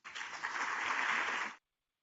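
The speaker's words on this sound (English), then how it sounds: "Round of applause, please, for speakers." A conference audience at a data technology workshop claps for the speakers, a short even burst of applause lasting about a second and a half before stopping abruptly.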